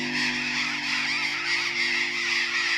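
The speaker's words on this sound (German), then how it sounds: "Farbenprächtige Vögel zu Hunderten, zu Tausenden. Es handelt sich um Felsensittiche." A huge flock of burrowing parrots in Patagonia fills the air with a dense, unbroken screeching chorus, loud and near, with countless overlapping shrill calls over a low steady hum.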